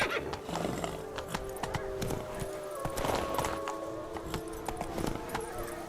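Hoofbeats of a galloping horse in The Witcher 3: Wild Hunt thud in a quick irregular rhythm, joined by a whinny and snorts, with game ambience beneath.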